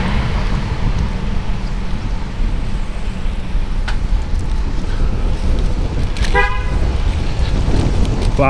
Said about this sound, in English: the light just turned green and he's like honking his horn already